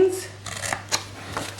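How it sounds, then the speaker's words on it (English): Scissors snip through the paper score lines of a handmade gift box in a few quick, crisp cuts, close up and fairly quiet, with soft paper handling between snips. "Then with my scissors, I'm going to cut up on each side the 4 score lines"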